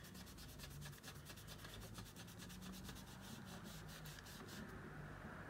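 A blending tool rubbing Distress Oxide ink over a stencil on paper, a faint, continuous fast scrubbing with rhythmic strokes throughout.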